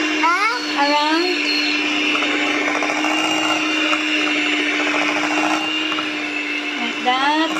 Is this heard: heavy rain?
no